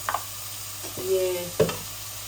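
Fried rice with two dried chilies and a pinch of cumin fries in a pan, giving a soft, steady sizzle broken by a few stirring scrapes and clinks.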